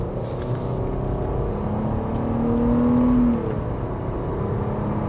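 A 2024 Nissan Murano SV Midnight Edition accelerating on the road, with a steady engine hum and whir inside the cabin that briefly rises in pitch and loudness before settling again.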